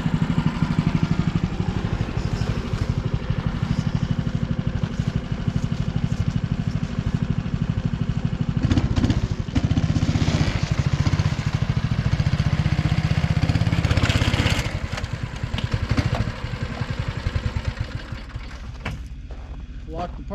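Snowdog snow machine engine running steadily while the machine is loaded onto a Harbor Freight cargo carrier, a close, loud buzzing drone with brief bursts of handling noise, then a drop in level near the end; a person talks over it.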